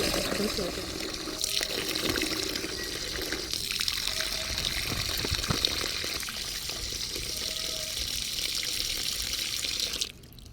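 Water runs and splashes steadily for about ten seconds while clothes are soaked for washing, continuous and close, then stops abruptly near the end; a voice speaks over it.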